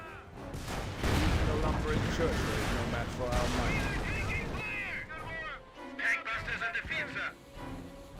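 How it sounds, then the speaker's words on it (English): A mortar half-track lays down a barrage in Company of Heroes, with repeated booms and gunfire blending into dense battle noise while someone talks over the action. "Mortar half track barraging away."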